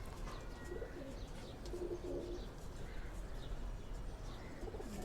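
Pigeons coo in a low, soft run of calls that rise and fall against a steady background hiss, fairly faint overall, with no clear talk.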